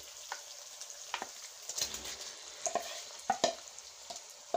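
Marinated chicken tipped into hot cooked-down masala in a pan for chicken malai, sizzling steadily with spatula scrapes and sharp clinks of the utensil against the pan.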